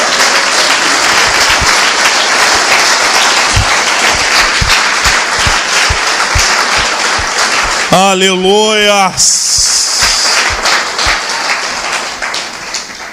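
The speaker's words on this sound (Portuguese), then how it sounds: "Aplauda ao Senhor poderoso" A church congregation claps steadily in rhythm during worship, close and lively, with a voice calling out and a brief sung shout partway through.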